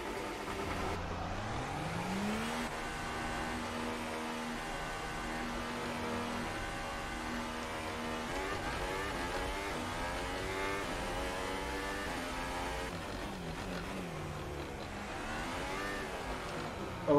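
An F1 2018 race car in a video game revs its engine, with a continuous loud whine that climbs and falls in pitch again and again, steady throughout with no talking.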